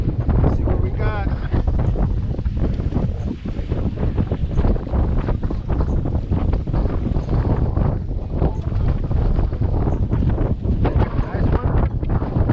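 Strong wind at Berkeley buffets the microphone with loud, constant roaring gusts, with water and boat noise underneath and people talking nearby.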